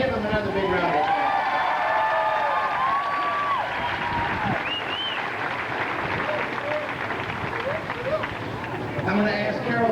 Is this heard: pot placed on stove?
no